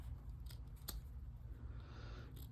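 Quiet snips of scissors cutting fabric washi tape, a few brief crisp strokes over low background hum.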